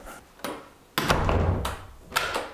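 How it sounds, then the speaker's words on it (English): Door being closed to test a latch that will not catch, several sharp thuds and rattling knocks in quick succession, loud and close, with a final bump near the end. "Let's see if the door closes any better."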